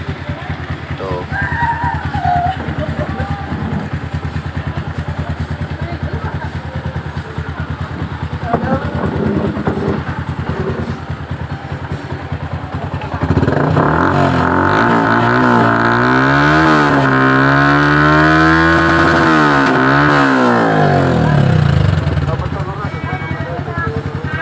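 A motorcycle engine idles close by at a New Year's celebration, then rises into a strong, sustained rev with wavering pitch, while someone talks over the first part.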